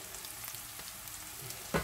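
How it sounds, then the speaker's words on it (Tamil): Onions sautéing in a pan, a faint, steady low sizzle with light crackle, ending in a brief louder clatter. "வெங்காயத்தை வதக்குங்க"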